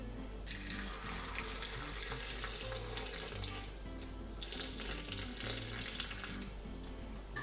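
Water pours into a blender for Jamaican green banana porridge in a steady, splashy stream, close by, with a couple of brief swells in the rush.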